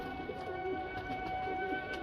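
Shah Pravas breed pigeons coo softly and steadily at close range, a low murmuring call repeating under a constant background hum.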